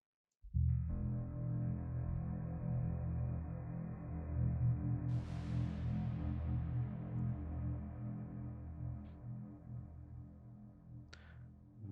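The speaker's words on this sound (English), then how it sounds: "And then we do a reverb." A sustained electronic tone rings on steadily, with a bright washy swell that blooms and decays into a long, lingering reverberant tail.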